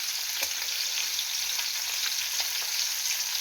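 Fish frying in plenty of sunflower oil in a pan, a steady, close, loud sizzle with small crackles and pops throughout and no talk.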